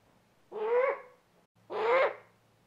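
A great horned owl gives two deep, separate hoots, each under a second long and evenly spaced, fairly close against a quiet background.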